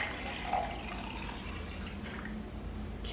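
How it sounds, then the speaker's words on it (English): Hot drink topped with whipped cream and caramel drizzle being poured, a soft steady liquid trickle with a small splash near the start, close and fairly quiet against faint background noise. "I'm gonna give this a pour"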